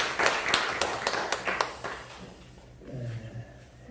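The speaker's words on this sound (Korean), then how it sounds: "우리 한번 감사의 격려 박수 합니다." Church congregation clapping in encouragement for elderly members, a brief burst of scattered claps that fades quickly into low room noise.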